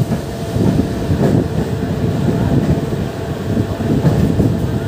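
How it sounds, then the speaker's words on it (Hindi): Passenger train 05134 running on a double-track electrified line between Jaunpur and Ghazipur City, heard from inside as a steady loud rumble of wheels and carriage noise with faint rhythmic clatter and wind. "बाकी उसके बाद जब से चली है तब से ठीक चल रही है ट्रेन"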